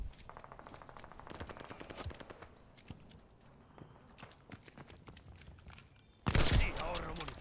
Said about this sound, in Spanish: ¿Quién me dispara?